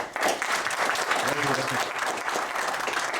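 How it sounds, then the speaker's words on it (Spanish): An audience at a lecture on quantum computing claps steadily for a few seconds, a dense wash of applause from a room full of people, with a brief voice briefly audible mid-way. "Por favor, recibámoslo con un fuerte aplauso."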